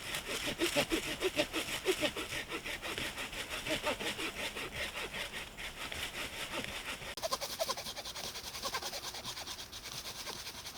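A folding hand saw cuts back and forth in quick, rhythmic strokes through an English ivy vine, close by and steady throughout.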